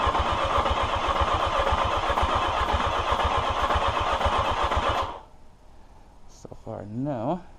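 A 1982 Yamaha XJ650 motorcycle engine with the choke on turns over in a loud, steady, rhythmic starter churn for about five seconds, then cuts off. A brief rising and falling hum follows in the quiet.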